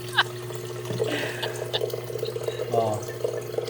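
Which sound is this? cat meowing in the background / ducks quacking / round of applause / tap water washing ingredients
tap water washing ingredients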